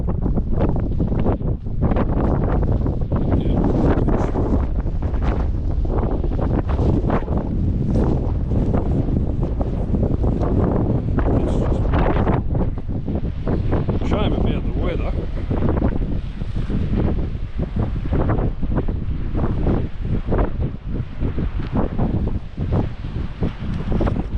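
Strong wind buffets the microphone in loud, continuous gusts, roaring and crackling, with waves and water faintly underneath, on the South Australian coast in wind and rain.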